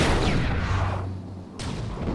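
A cannon fires in the LEGO Star Wars III: The Clone Wars video game, giving a loud booming blast that fades out, then a second sharp burst about one and a half seconds later.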